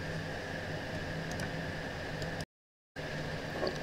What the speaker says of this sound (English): I'm going to export this as smokestack hiss.